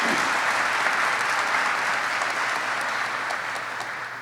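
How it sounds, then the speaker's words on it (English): Sustained applause from the audience at a military warrant officer candidate graduation ceremony, a dense steady clapping that fills the hall and tapers slightly toward the end. "Please join me in a round of applause for this outstanding team."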